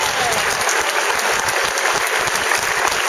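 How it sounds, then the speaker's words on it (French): A festival crowd at an outdoor evening speech in St-Paulin claps loudly and continuously, a thick wash of many hands with some closer claps punching through. "Mesdames, Messieurs, on applaudit très fort."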